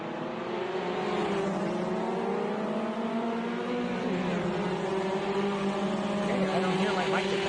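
Race car engines in a sim racing video game give a continuous droning, revving hum with shifting pitch, held at a steady moderate level throughout with no pauses.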